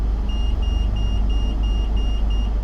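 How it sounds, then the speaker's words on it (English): Rear cross traffic alert buzzer of a stationary Toyota Rush, a rapid, regular train of high beeps, about eight evenly spaced pulses, over a low idling engine rumble inside the car. "We're trying out the rear cross traffic alert, as you can hear from all the buzzers"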